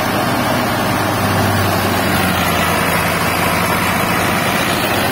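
A four-cylinder Euro Ford 5880 tractor drives a PTO thresher at about 1600 rpm, a loud, steady, close engine drone with a constant mechanical roar and no pauses.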